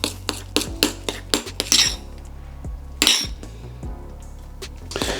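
A spoon stirs protein powder into milk in a glass, giving a rapid series of sharp metallic clinks and taps against the sides, loud and close, with a brief scraping swirl partway through.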